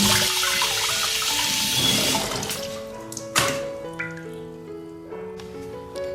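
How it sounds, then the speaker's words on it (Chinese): Running tap water pours over a large piece of pork tenderloin as it is washed in a home kitchen. A steady loud gush fades after a couple of seconds, followed by splashing, dripping and clinks of handling at close range. "下面我们把这个大块的里脊肉给它洗一下"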